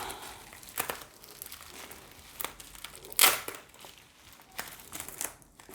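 Crinkly plastic packaging on a two-in-one comics set gets unwrapped in bursts of crackling and rustling, with a few sharper crinkles, close and fairly quiet.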